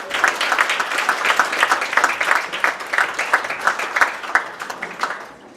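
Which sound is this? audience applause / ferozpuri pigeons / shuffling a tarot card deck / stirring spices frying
audience applause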